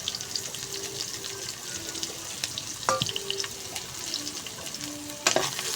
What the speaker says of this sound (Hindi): अब इसको हल्का सा फ्राई करेंगे,